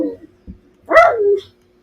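A puppy lets out a single short, whiny bark close by, with a couple of faint soft sounds before it and quiet afterwards.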